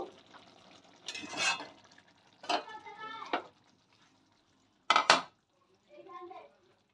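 Cooked prawn-paste pointed gourd (chingri bata potol) is tipped from a pan onto a plate, giving a few short bursts of scraping and clattering against the dish, separated by pauses and quiet stretches.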